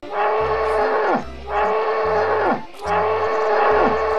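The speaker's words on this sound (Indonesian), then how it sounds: "Wah, ada juga satu ekor kerbau nih teman-teman." A water buffalo in a video game lets out three long, loud, low moos in a row, with brief pauses between them and no talking.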